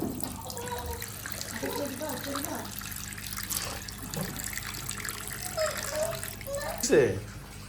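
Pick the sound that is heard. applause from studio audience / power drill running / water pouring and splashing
water pouring and splashing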